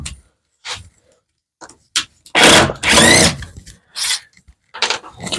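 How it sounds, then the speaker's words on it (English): A cordless power drill backs screws out of the bottom of a piece, firing in short loud whirring bursts separated by pauses, with two longer whines near the middle and quieter handling clicks between. "I'm going to take my screws off the bottom."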